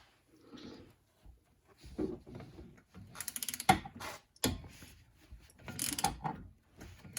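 A ratchet works loose a brake caliper bolt during a brake pad and rotor replacement, with bursts of quick clicking separated by pauses, close and moderately loud, and a few metallic knocks in between.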